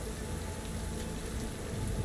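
Steady acid rain in the video game Cyberpunk 2077 Phantom Liberty, a dense continuous hiss of falling drops, moderately loud, with no talk over it.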